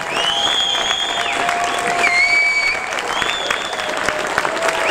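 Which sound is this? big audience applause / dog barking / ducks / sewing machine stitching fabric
big audience applause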